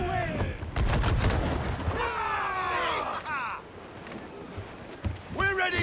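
Ship cannons and small arms firing in Assassin's Creed IV Black Flag during a naval battle, several sharp booming shots early on, with shouted voices and crew calls over the gunfire.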